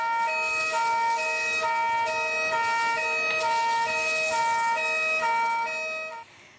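At the scene of a car fire, an emergency vehicle's siren wails loud and close in a steady, repeating two-tone pattern, then cuts off abruptly near the end.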